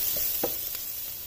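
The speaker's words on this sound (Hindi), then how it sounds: "अब लहसुन को इसमें सिर्फ 1 मिनट तक कुक करना है।" Garlic fries in a pan with a faint, soft sizzle, a brief quiet hiss with a couple of small stirring taps, and no voices.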